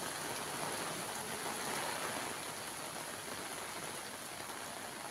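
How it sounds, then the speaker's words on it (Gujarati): Heavy monsoon rain pours steadily in Junagadh, Gujarat, a dense, even roar of falling water that stays loud and unbroken throughout with no voices. "જૂનાગઢમાં પણ હાલ જોરદાર વરસાદ વરસી રહ્યો છે."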